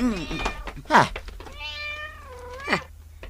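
A cat meows several times up close, its rising and falling cries alternating with a person speaking nearby.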